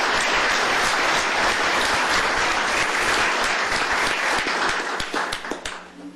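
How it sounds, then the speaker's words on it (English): Sustained applause from a room of people at a county commissioners court meeting, loud and dense at first, then thinning and fading out near the end. "let's give him a round of applause"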